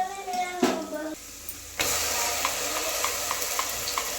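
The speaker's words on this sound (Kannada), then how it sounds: "ಈರುಳ್ಳಿ ಸ್ವಲ್ಪ ಫ್ರೈ ಆದಮೇಲೆ ರುಬ್ಬಿದ್ದು ಮಸಾಲೆ ಸೇರಿಸ್ತಾ ಇದ್ದೀನಿ" Ground masala and onions fry in a pan for a fish curry, a steady close sizzle that swells into louder broadband crackle about halfway through, with faint stirring scrapes and no talk.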